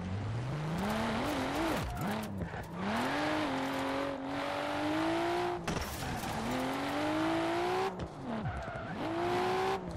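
A Nissan R33 Skyline drifting in Forza Horizon 4, its engine droning and rising and falling through repeated revs while tires squeal in long sustained screeches, loud and continuous.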